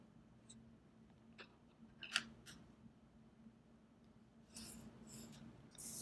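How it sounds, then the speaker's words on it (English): Scissors cutting pink fabric along a garment's center front edge, a few scattered snips and rasping blade strokes, then a longer run of cutting near the end, close but quiet in a still room. "So I'm going to cut this pink fabric as long as that center front edge there."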